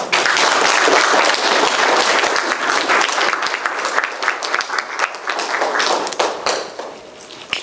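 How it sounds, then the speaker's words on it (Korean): A church congregation gives loud, vigorous applause to welcome a visiting pastor, dense clapping from many hands that starts strong and slowly tapers off. "격한 박수로 환영해 주십시오."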